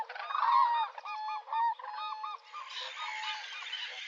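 Geese honking and other wetland birds calling at El Hondo wetland, a dense overlapping chorus of nasal honks and calls that stays steady and close throughout, with no voices.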